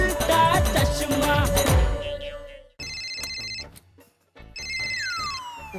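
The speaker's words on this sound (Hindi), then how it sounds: "फोन की घंटी बज रही है।" A phone ringtone chimes in repeated electronic bursts after a short musical passage, clear and fairly loud, with a brief gap between rings.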